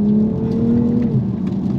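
A BMW M240i xDrive Coupe pulls out of a slippery junction at full throttle, giving a loud, close engine drone whose steady tones climb slightly, then shift as it gears up, with no talk.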